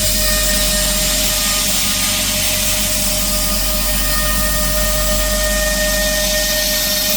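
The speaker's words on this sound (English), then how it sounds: "Sorry about the compressor." An air compressor runs steadily in a hobby workshop beside a CNC lathe, a loud continuous drone with a constant hum and hiss filling the whole clip.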